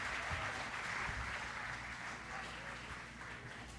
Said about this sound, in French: Alléluia! On les acclame ensemble.